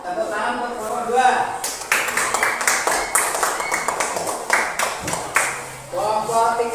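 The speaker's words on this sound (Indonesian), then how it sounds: "Ya, tepuk tangan untuk kelompok 2." Classroom applause for a group of students, a burst of many hands clapping for several seconds, with a teacher's voice speaking before and after it.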